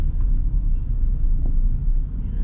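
A Toyota Veloz moves through dense evening traffic, its engine giving a steady low rumble from inside the cabin, with no distinct gear-change event standing out.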